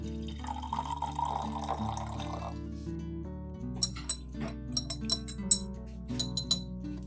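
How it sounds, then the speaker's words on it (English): Water pours into a glass jar with half a teaspoon of sugar, then a spoon stirs it, giving a soft liquid trickle followed by a run of bright, irregular clinks against the glass. "Then pour in water and stir well."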